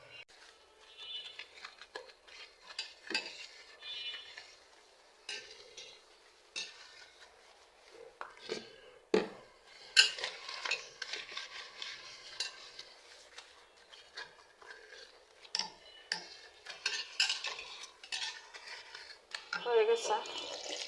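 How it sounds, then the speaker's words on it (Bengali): Scrubbing a dirty wash basin with a little turmeric powder: irregular close scrapes, rubs and clinks of hard-surface scrubbing at low level, with speech passing over parts of it. "এখন একটু বেসিনটা ধুয়ে নিব, একটু ময়লা হয়ে গেছে।"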